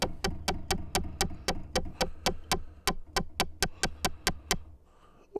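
Percussive synth notes from a Pittsburgh Modular Taiga keyboard, a steady run of about eighteen sharp clicky plucks in a regular rhythm, each with a quick decay, alone.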